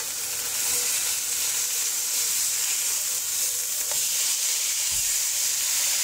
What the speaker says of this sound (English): I'm going to now flip the steak over.